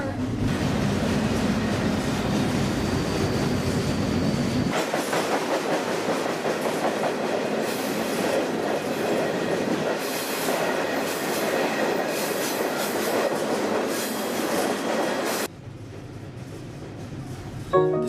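A freight train rolls past on the rails, a steady loud rumble with clattering wheels and faint squealing running throughout, easing off to quieter tones near the end.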